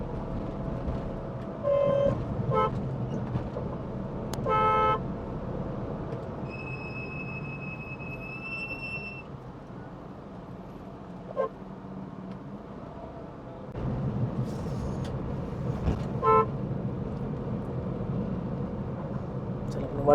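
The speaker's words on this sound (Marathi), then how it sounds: "थोडा ट्रॅफिक आपल्याला भेटतो इथे" Road traffic on the Warje bridge in Pune, heard from inside a Tata Nano: a steady engine and road rumble, with several short car horn toots and one longer horn blast, and a voice talking at times.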